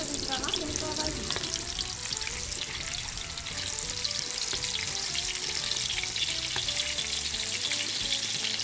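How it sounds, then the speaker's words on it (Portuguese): Fish fries in bubbling oil in a home kitchen, a loud, steady crackling sizzle close to the pan that continues unbroken throughout. "O óleo já tá borbulhando."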